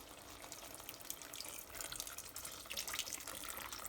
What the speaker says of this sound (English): We're going to add our water to make our gravy now.